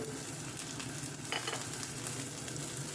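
Cauliflower pieces fry in a pan with salt and turmeric, giving a soft, continuous sizzle with light scraping from stirring.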